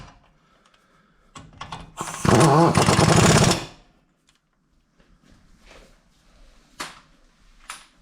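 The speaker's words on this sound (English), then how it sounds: "I'll just do them up gently with the air gun" An air impact gun hammers in a loud, rapid burst of about a second and a half on the wheel bolts of a 2010 Vauxhall Corsa SXi 1.2 petrol, with shorter clicks and tool handling sounds around it.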